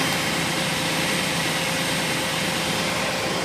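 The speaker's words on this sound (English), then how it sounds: "Okay, so the engine is on, the air conditioning is off." A 1997 Astro Safari van engine idles with the air conditioning off, a steady broadband hum and low rumble held without change, close and fairly loud, no talking.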